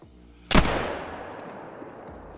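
A muzzleloader fires once in a hunting game, a single loud sharp blast followed by a long rumbling decay that fades over about two seconds.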